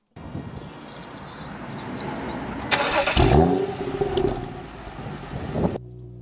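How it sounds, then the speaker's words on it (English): A BMW 235i engine cranks via starter button and fires up, settling into a steady idle with a brief rev, heard close inside the car. "So if I just press the starter button."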